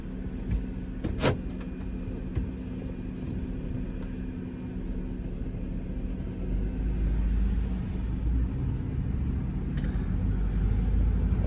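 A tuned 2002 GMC Yukon 4WD with 4.11 gears, a K&N intake and 35-inch tires on 20-inch Fuel rims rolls slowly down a back road, giving a steady low engine and road rumble that swells slightly toward the end.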